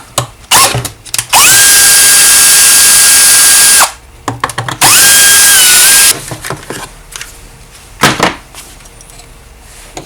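Grunhelm GS-4500MG petrol chainsaw with its cover off during carburetor work, loud and close, revving in two sustained high-pitched bursts with choppy throttle blips and idling gaps between.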